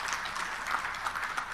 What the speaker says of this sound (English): Let us give a big round of applause for the excellent organization